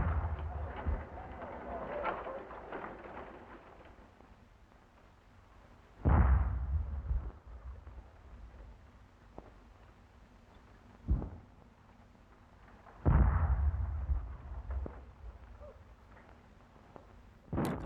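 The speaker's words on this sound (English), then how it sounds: "Light field howitzers." Light field howitzers fire outdoors, heavy booming blasts spaced several seconds apart, with a smaller thump between them, over a low background murmur.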